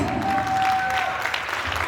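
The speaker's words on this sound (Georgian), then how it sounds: "ქუხარი აპლოდისმენტები დავაჯილდოვოთ" A theatre studio concert audience applauds, a dense wash of clapping from many hands with a thin tone running through it, brief and fairly loud.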